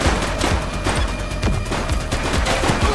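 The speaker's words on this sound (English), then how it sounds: "She's shooting!" Rapid gunfire during a police shootout with suspects in The Precinct, loud dense bursts of repeated shots with sharp cracks and booming echoes throughout.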